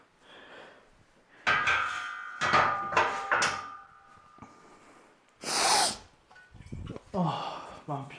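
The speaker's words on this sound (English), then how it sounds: "Oh man, I'm just sniffling like shit" Repeated sniffling and snorting breaths from a person resting during a 5x5 strength workout, several sharp nasal bursts close to the mic with quiet gaps between them.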